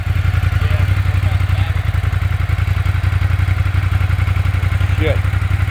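Ducati 1200 S motorcycle fitted with a muffler, idling close with a loud pulsing low throb and rapid even firing beats, a voice speaking briefly over the engine.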